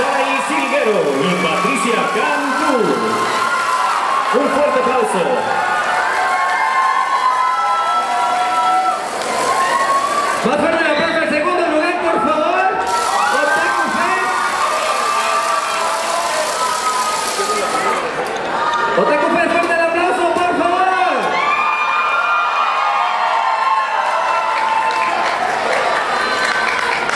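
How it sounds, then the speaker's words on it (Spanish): An audience at an award ceremony for a 2018 WCS México event claps and cheers loudly and steadily throughout, while a presenter speaks over the crowd on an amplified microphone. "Un fuerte aplauso."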